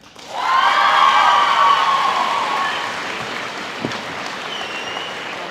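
An audience at an athletics awards ceremony breaks into applause with a loud whoop and cheers at the start, the clapping staying strong and then easing slightly, with scattered shouts fading into the background.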